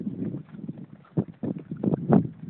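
A horse's hooves thud on the ground at a lope, an uneven rolling rhythm of heavy close beats, with no talk.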